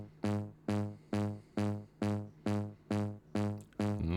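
A single synth note made with the Faceplant plugin repeats about eight times at a steady pulse, each a bright harmonic tone that swells and decays, alone and fairly loud.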